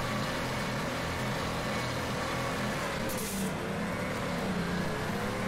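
A drift car engine droning steadily in the video game Torque Drift, a continuous mid-level hum with slight shifts in revs and no clear peaks.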